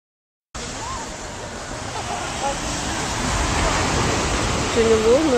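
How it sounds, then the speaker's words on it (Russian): Big sea waves wash onto a beach in a steady, broad roar of surf, with scattered voices and brief vocal sounds heard over the rushing water. "Сегодня волны были большие, оградили даже немножко пляжик."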